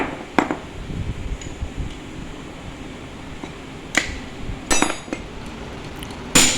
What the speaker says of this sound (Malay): sekarang Pomen tengah buang serpihan kemek yang terkena pada coil dalam alternator